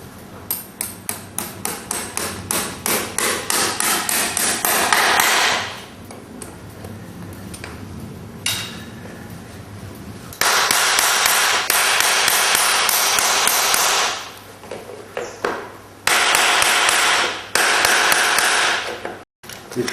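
Farrier's hammer driving nails into a horseshoe on a hoof: rapid bursts of sharp metallic strikes, dozens of close ringing blows in quick runs separated by pauses, loud and near.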